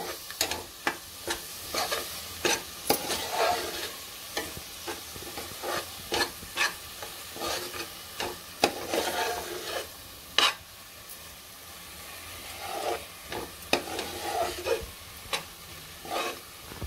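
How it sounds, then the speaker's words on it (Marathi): Spice paste sautés in a pan for a chickpea and elephant-foot-yam amti, a spatula scraping in irregular sharp strokes over a low sizzle, close and clear, no talking. "आता परतून घेऊया"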